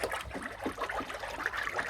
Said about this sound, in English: It allows for a homogeneous dispersion of plant fiber in the water